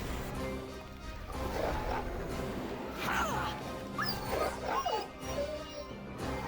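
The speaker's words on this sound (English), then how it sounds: "my puppy's being hurt." A dog in the video game Neverwinter Nights 2 is hurt in combat, giving several yips, whimpers and barks amid game clashes and music, moderately loud.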